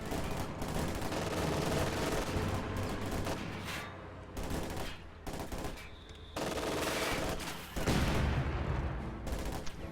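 Steady machine-gun fire and scattered explosive mortar blasts fill a multiplayer war video game battle, a dense continuous barrage with a few heavier booms, no voices.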